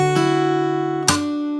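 Fingerstyle guitar plays a slow turnaround fill from a song: two plucked notes about a second apart, each ringing out clearly with no voices.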